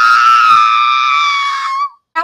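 A loud, sustained high-pitched scream from a person reading a horror story aloud, held for nearly two seconds before cutting off, followed by a brief sharp sound.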